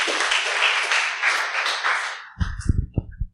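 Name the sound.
audience applause after a tech talk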